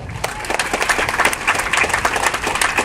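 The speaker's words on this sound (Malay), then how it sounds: "Satu tepukan untuk Elgin." A hall audience gives a short round of clapping for Elgin, many hands patting in a quick, even patter that stays moderately loud and roughly level for a few seconds.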